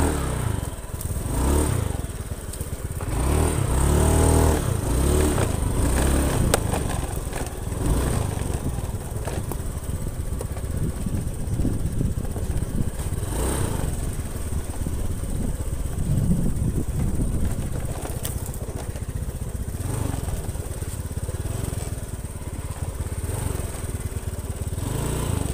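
A serviced Honda Beat FI scooter engine runs steadily at close range, a loud buzzing drone with some revving swells early on and wind noise over the microphone; no voices are heard.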